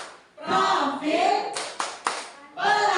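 A group of teachers and parents chants together and claps in rhythm for a school P5 clap chant, with mixed voices calling out between a few sharp, sharply timed claps.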